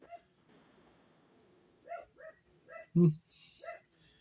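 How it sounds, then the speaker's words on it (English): A dog barks several times in short bursts, fairly close, with one louder bark near the middle and quieter yips around it, over a low background hum. "Gotta love dogs."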